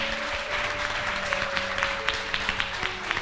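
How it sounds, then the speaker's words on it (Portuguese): A church congregation applauding at a Semente de Fogo service in Botafogo, steady dense clapping with a faint sustained tone underneath and a few sharper claps standing out, heard from a moderate distance. "Uma salva de palmas então"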